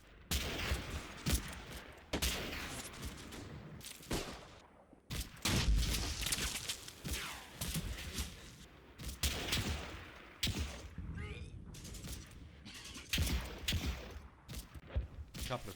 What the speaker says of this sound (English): A couple of rifle grenades and small arms fire sees them off.